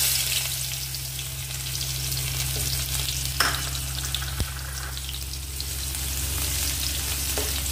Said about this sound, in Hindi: इसमें हम ऐड करेंगे जीरा, हींग और एक छोटी प्याज को हमने काट लिया है।